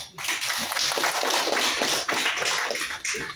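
An audience at an official ceremony applauds in a dense, fairly loud burst of clapping that runs continuously with slight dips, no voices on top.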